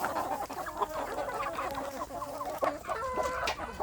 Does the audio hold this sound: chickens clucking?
yes